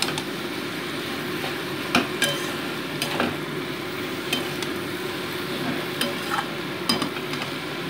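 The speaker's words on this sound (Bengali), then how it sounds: "2 মিনিট আমি কষিয়ে নিচ্ছি।" Spice masala and fried cauliflower pieces are stirred and sautéed in a pan, a steady low sizzle broken by sharp spatula scrapes and taps at irregular intervals, close and without talk.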